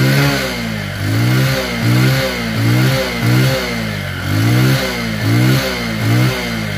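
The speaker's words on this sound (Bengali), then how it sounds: "বন্ধুরা দেখুন বাইকটির সাউন্ড" A Bajaj CT 100 ES motorcycle engine revs up and settles back in a steady rhythm, about eight loud, close throttle blips over a continuous idle hum.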